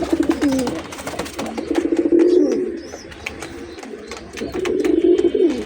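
Jhuma Giribaz pigeons coo in close, loud rolling bursts, a long murmuring phrase in the first half and another near the end, with faint chirps and clatter in the background.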